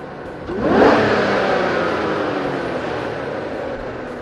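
A car engine with an Edelbrock E-Force supercharger fires and revs sharply, rising in pitch, then settles into a loud, steady idle rumble close by.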